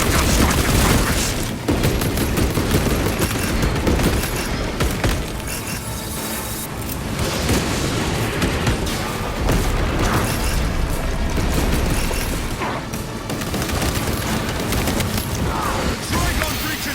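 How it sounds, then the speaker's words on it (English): Heavy gunfire and explosions from a servo gun strike in the video game Warhammer 40000: Space Marine 2, a dense, loud barrage of booms and bursts that continues without a break. "Servo gun strike in progress."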